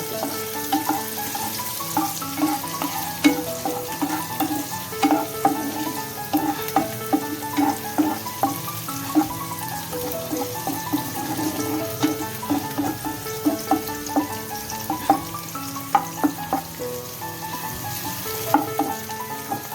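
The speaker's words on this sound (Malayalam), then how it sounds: "ഇതെല്ലാം കൂടിയിട്ട് നമുക്കൊന്ന് മൂപ്പിച്ചെടുക്കാം" Onions sauté in a pan for fish noodles, giving a continuous close sizzle with frequent scraping stirs and small clatters throughout.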